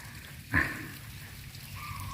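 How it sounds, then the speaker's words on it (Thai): Heavy rain pours at a forest monastery beside the Thai–Cambodian border, a steady, moderately loud hiss with one brief stronger gust of sound near the start. "ซึ่งตอนนี้นะครับเนาะฝนตกหนัก ทีเดียวครับ"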